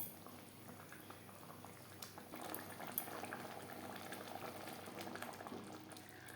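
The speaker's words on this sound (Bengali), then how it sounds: "1-2 মিনিট ফুটিয়ে নেব।" A pot of curry with pakoras boils on a gas flame, giving a faint, steady bubbling and patter that continues throughout with no voices.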